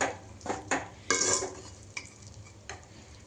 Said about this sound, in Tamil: கீரையும் வெங்காயமும் தக்காளி மிளகாய் எல்லாமே மிக்ஸ் பண்ணிக்கலாம்